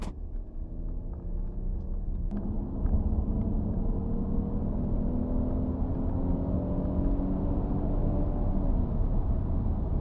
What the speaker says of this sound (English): did you hear that V6 sing?